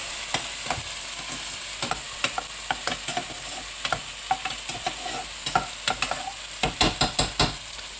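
A thick masala for cauliflower sizzles and reduces in a pan as a spatula repeatedly scrapes and taps the bottom, the close rhythmic strokes riding over a steady bubbling hiss.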